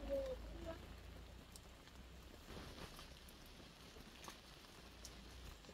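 Rain falling as a faint, steady patter and hiss that continues evenly throughout with no one speaking.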